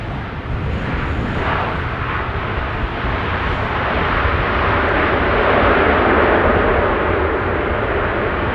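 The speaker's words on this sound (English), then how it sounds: "It's a 777 freighter" A Boeing 777 freighter arrives in gusty wind at Amsterdam Schiphol, its engines a loud, sustained roar that builds slowly and holds steady throughout.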